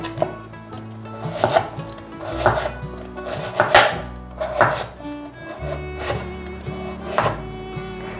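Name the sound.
knife chopping carrot on a cutting board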